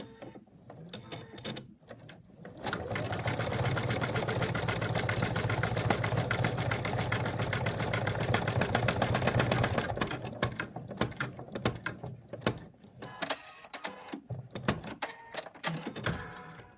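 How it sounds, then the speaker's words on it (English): An embroidery sewing machine stitches in the hoop, securing ribbon on an in-the-hoop purse. A steady, fairly loud mechanical whir runs for about seven seconds, then gives way to quieter, irregular clicks and clatter. "Okay, now we're going to stitch that."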